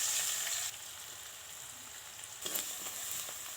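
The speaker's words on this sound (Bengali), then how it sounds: "পরিমাণ মতো লবণ আর পরিমাণ মতন হলুদ দিয়ে নাড়াচাড়া করতে হবে" Onions with salt and turmeric fry in a wok for pasta, a loud, steady close sizzle with a brief scrape of stirring partway through, no voices.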